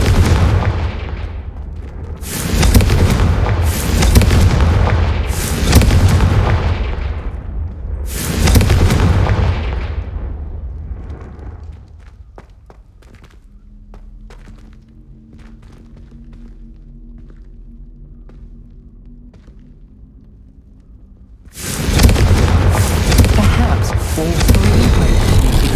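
Heavy booming blasts from fire spells in the 2023 video game Hogwarts Legacy, a series of loud, deep explosions in rapid bursts, then a quieter stretch with a low hum before another loud blast.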